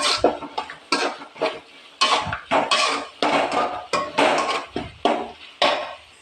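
A spoon mixes freshly grated coconut into a tomato dish in a pan, knocking and scraping in a steady rhythm of about a dozen close, sharp clanks with short pauses between.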